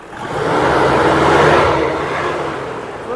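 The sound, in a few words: car engine being revved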